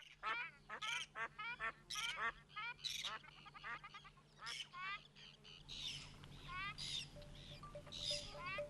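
A flock of ducks quacks and honks repeatedly at a distance, calls overlapping in irregular bursts over a faint steady background hum.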